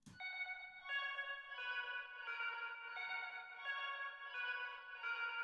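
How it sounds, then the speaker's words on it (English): An RnB sample run through ping pong delay bouncing between left and right, then a plate reverb, gives sustained tonal chords that swell in repeating phrases, each smeared by echoes and a long wash, with no talking. "I've put this in ping pong mode, which means the delays go from left to right, so it sort of spreads the sound out."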